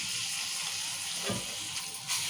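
Ginger and garlic sizzle in hot oil with onions and chillies for a tomato curry, a steady close frying hiss with a brief stir-like rustle midway and no talking.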